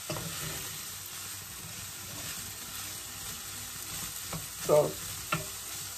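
Chicken and prawns sizzle steadily in a hot pan, a continuous crackling fry with a few sharper stirring clatters and pops near the end, and a brief word spoken over it.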